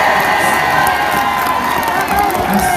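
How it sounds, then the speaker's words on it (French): A crowd gathered one morning in honour of a man named Éric cheers and claps loudly and steadily, with whoops and children's shouts mixed into the dense, continuous roar. "on applaudit notre Éric"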